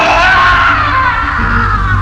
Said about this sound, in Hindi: उनके चीखने की आवाज इस बार घर के गार्डन से आ रही थी